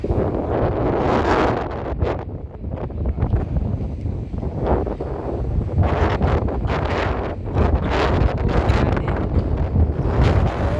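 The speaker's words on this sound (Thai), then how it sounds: "ลมพัดจะปิ้วเลย" Strong wind buffets a microphone outdoors in a botanical garden, a loud continuous rumble with gusting surges throughout, and no voices.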